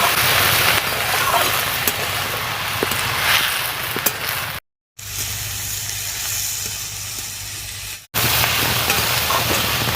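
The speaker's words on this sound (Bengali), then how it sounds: "এবার সেদ্ধ করে রাখা পেঁয়াজ কলিটা দিয়ে দিচ্ছি। পেঁয়াজ কলিটাকে একটু নাড়াচাড়া করে ভেজে নেব।" Boiled onion stalks sizzling and frying in a pan while being stirred, a steady loud hiss with occasional scraping, cut by two short silent gaps.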